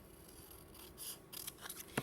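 Scissors cut a folded fabric triangle for a quilt, a few quiet snips that end in one sharper closing cut, close and alone.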